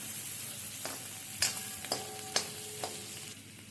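Onion shallow frying in a pan, with a soft steady sizzle and several distinct scraping clinks of a spoon stirring, close and fairly quiet, no talking.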